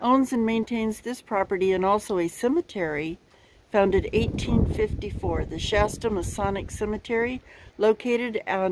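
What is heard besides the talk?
No everyday noises stand out.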